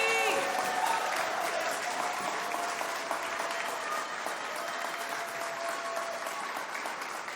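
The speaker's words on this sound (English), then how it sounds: "one big round of applause for the band class of 2023" Sustained applause from a school concert audience for the graduating band class of 2023, a dense, steady wash of many hands clapping that fills the whole stretch at an even level, with a few voices and faint tones showing through.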